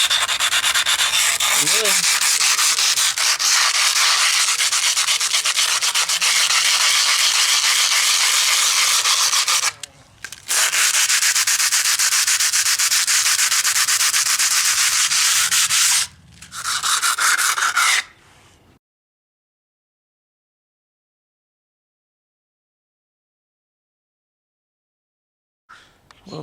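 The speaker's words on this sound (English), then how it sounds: "we want to get some sandpaper, get the rest of this off" Sandpaper rubs back and forth over a dried cement patch on a stucco masonry wall, a loud, steady rasping scrape that runs in long bursts with two brief pauses, then stops into silence; a voice speaks briefly.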